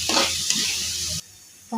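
Spice mixture stirred and sizzling in a hot cooking pan, a steady bright hiss with scraping movement that cuts off abruptly, then briefly resumes at the end.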